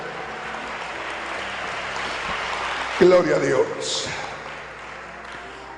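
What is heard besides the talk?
congregation applause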